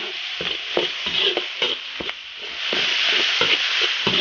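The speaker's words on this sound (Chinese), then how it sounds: "烧油，炒点底料，生姜、大葱、辣椒酱，炒出红油，" Ginger, scallion, chili paste and spices stir-fried in hot oil in an iron wok, with repeated scraping strokes of a spatula over a steady close sizzle.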